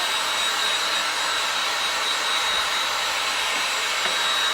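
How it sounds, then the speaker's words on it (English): A heat gun blows to dry a wet Dollar Tree home decor craft piece, making a loud, steady, close-up whooshing roar that holds constant throughout, with no talking. "I'm going to use my heat gun to just dry it up a little bit"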